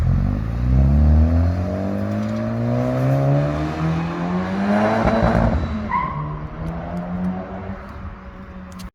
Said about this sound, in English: it's limited to 3500 RPM. So you see, I can't rev more than this. This is max.